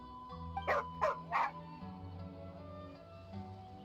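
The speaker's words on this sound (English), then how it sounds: "Here, doggy. Good doggy." Stray dog in Genshin Impact giving three quick yipping barks in a row over a soft musical background, close and clear with no talk.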